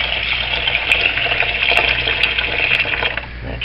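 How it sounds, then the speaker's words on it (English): Water streaming from a tap into a pot of onions and red peppers, a steady gushing fill with a faint low hum beneath and a few small clicks, close by and without talk. "put in just enough water to cover the onions and the red peppers"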